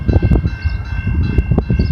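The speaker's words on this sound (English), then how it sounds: "We got Via 71 approaching the London station." A Via Rail passenger train, number 71, approaches London station in Ontario on a winter day, with a loud, close, rumbling low roar and a steady high tonal whine from the locomotive.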